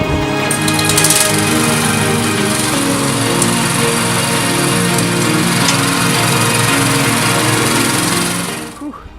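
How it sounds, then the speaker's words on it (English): Power driver sinking self-drive screws into foundation poles outdoors in a market garden, a loud, continuous high-pitched motor whine that stays steady for several seconds and then cuts off at the end. "I'm just screwing in the last self-drive screws on the foundation poles."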